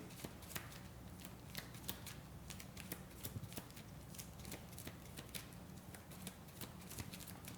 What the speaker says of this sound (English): Got to shuffle my Cypher deck because I went through it.